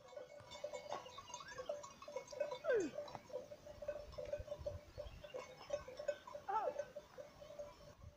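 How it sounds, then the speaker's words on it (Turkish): A grazing flock of sheep with shepherds outdoors in the Turkish village of Arıtaş, scattered bleats and a faint tinkling bell over a steady rural ambience, with a sharp call rising once. "Çobanlar koyunlarını otlatıyorlar."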